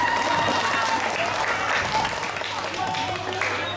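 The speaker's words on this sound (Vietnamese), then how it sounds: "đề nghị các bạn cho một tràng vỗ tay." Audience applause at a children's summer-closing variety night, a dense steady wash of clapping across the whole stretch with a faint hum and some voices mixed in.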